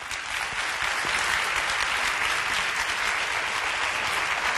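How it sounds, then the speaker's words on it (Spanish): A television studio audience at TV3 gives sustained applause as a guest arrives, a thick, steady wash of clapping that holds at an even level throughout. "Campuzano, podeu aplaudir"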